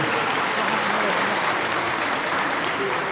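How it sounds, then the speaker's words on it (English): Steady applause from a live audience at a bodybuilding posing clinic, loud, dense and continuous throughout with no gaps. "round of applause"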